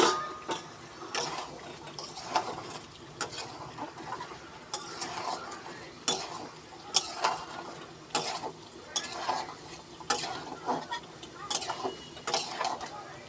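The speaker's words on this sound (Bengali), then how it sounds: "ঢাকনাটা খুলে নাড়িয়ে নেবো একটু।" A spoon scrapes and clanks around a pot of chicken curry in a home kitchen after the lid comes off, the stirring strokes coming in an irregular rhythm over a faint background.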